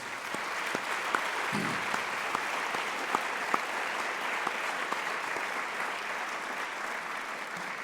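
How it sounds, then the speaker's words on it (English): An audience at a university State of the University address applauds its speakers, a sustained wash of many hands clapping with scattered louder claps, fairly even and moderately distant. "Let's give them one more round of applause."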